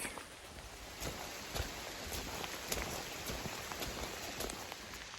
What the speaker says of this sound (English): the rain started to fall quite heavily